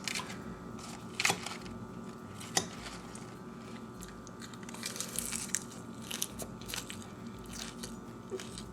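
Close, crisp crunching and chewing of a chopped spinach salad with sun-dried tomatoes, irregular bites over several seconds with a few sharper crunches, no speech.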